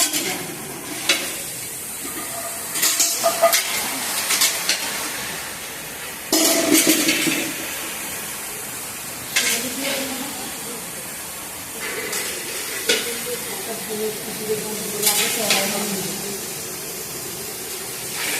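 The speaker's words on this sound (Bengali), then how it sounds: "সবজি ভাজা হয়েছে, আলু দেওয়া হচ্ছে।" Potatoes being added to frying vegetables in a pan, giving intermittent sizzling bursts and scraping stirs, moderately close, with brief pauses between bursts.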